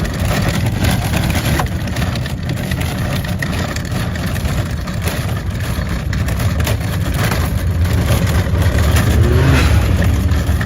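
Turbocharged off-road vehicle engine at a Rednecks with Paychecks mud event, a loud steady roar that swells slightly toward the end with constant outdoor noise.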